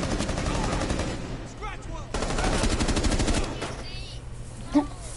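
Video game gunfire, dense bursts of rapid automatic shots that fade into scattered pops and one sharper crack near the end, with excited talk mixed in.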